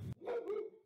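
A dog barks indoors, one or two short sharp barks heard alone in a quiet room, close and moderately loud.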